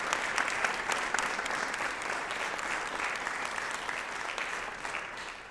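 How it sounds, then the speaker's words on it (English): A business conference audience applauds its sponsors, giving a continuous even round of clapping at moderate distance that holds steady throughout. "if you could give them all a round of applause"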